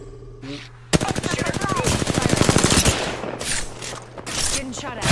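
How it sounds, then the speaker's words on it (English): A long burst of rapid automatic gunfire erupts in a battle-royale shooter, loud and steady for about two seconds, then breaks into scattered shots and thuds before another burst near the end. "Getting shot at."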